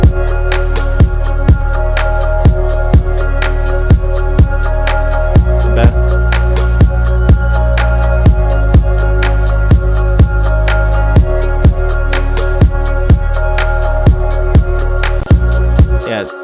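A loud electronic music track plays with a heavy, sustained bass line under steady kick-like hits and layered synth tones, cutting off abruptly at the end.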